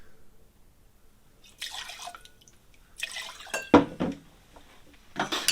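Whiskey and vermouth pour into a mixing glass for a cocktail in several short splashing bursts with quiet gaps between them, close and fairly loud.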